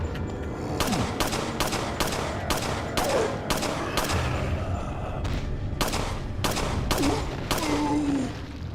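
Villagers being shot in Resident Evil 4 on GameCube: a rapid run of loud, sharp gunshots fired in quick succession with brief gaps, some overlapping, alongside faint in-game background noise.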